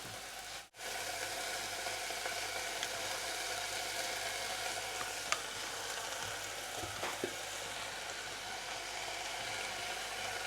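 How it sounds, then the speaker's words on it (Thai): Mushrooms frying with ham and onion in a pan, a steady soft sizzle that holds evenly throughout, fairly faint and close, with a brief clatter early on and no talk. "แฮมกับหัวหอมนะคะ สุกเรียบร้อยแล้ว เราก็จะใส่เห็ดลงไปเลย"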